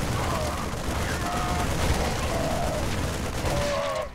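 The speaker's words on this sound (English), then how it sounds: "They're shooting civilians." Rapid gunfire rattles continuously in a StarCraft II battle, a dense unbroken fusillade with faint game voices mixed underneath.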